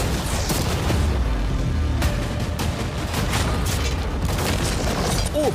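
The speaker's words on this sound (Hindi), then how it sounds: "अब हम तुम्हारी नई यॉट पर कैनन्स को शूट करने वाले हैं।" Cannons fire cannonballs at a yacht, loud booming blasts and cracking impacts piling up over a dense, continuous rumble with several sharp hits.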